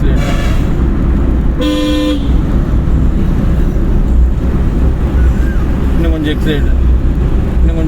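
A car horn gives one short, loud toot over steady road and engine noise from inside a moving car during a driving lesson, with a voice speaking throughout.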